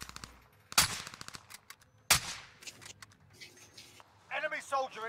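Gunfire in Warzone: two sharp, loud close shots about a second apart among scattered lighter cracks and clatter, followed by a voice speaking near the end.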